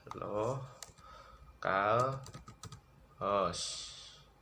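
Light clicking of a computer keyboard, faint and intermittent, under a person speaking throughout.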